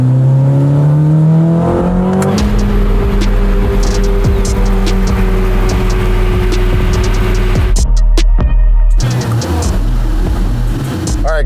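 A Corvette ZR1 twin-turbo V8 revs loudly and close, its note climbing and then holding a strong roar. A brief lift cuts the sound near the end before it surges again, with no talk over it.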